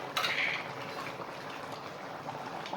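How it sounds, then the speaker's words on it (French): Spoon stirring Cornchapp sauce in a cooking pot, with a brief metallic scrape at the start, then soft bubbling and faint stirring noises at moderate volume without speech. "On va donc remuer et continuer à cuire."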